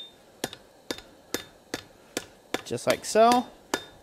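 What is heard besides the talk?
hammering forged steel ladle over anvil horn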